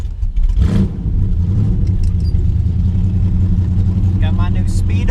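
A 383 stroker V8 in a Camaro, only 49 miles on the engine and a timing issue, cranks and fires, settling into a loud, slightly rough rumbling idle close by.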